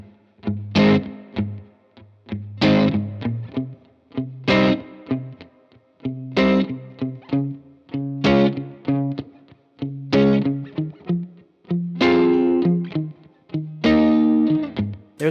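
Acoustic-style guitar chord progression for a song, strummed in regular loud bursts of full chords, each ringing briefly before the next strum, with no talking.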